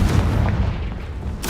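A Confringo blast spell fires in the video game Hogwarts Legacy, a dense, booming burst that rumbles low and steady for over a second before a sharp crackling flare at the end, loud and close with no talk.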